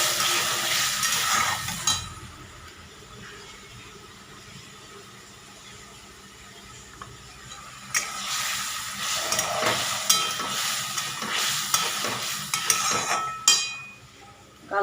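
Tomatoes and spices fry in hot oil in a pan, with a loud sizzling burst at first, a quieter stretch, then a long renewed crackling sizzle with utensil clinks and stirring scrapes.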